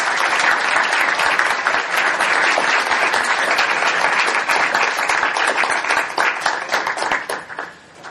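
An audience at a poetry reading for the Rilke Prize gives the poet Katie Peterson a warm welcome with dense, steady applause from many hands that holds for several seconds before thinning out and fading.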